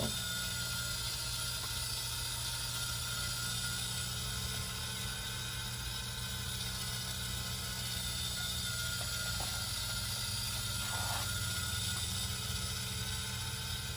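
A motorized tumbler turner spins a glitter epoxy tumbler, a steady, continuous mechanical whir and hum with a faint repetitive ratcheting texture, unchanging and close, with no voices.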